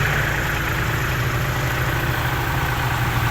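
A tractor engine idling nearby, a loud steady low rumble with constant vibration and no pauses.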